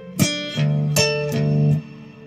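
A slow, plucked electric guitar phrase with a few distinct notes ringing out one after another, sustained and clear with no voices.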